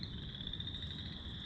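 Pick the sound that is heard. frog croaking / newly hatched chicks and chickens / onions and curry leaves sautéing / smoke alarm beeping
frog croaking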